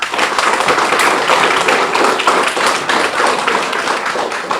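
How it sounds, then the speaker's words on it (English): Schoolchildren clapping loudly for themselves at a water facility event, a thick, continuous burst of many hands close by, with scattered taps and a little background chatter. "So you are going to clap much louder for yourselves than the adults did for you."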